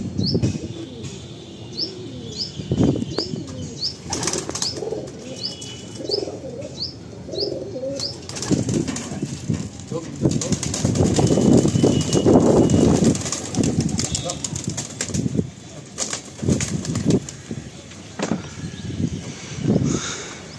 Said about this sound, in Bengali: দাদার লফট থেকে পায়রা উড়ান দেখি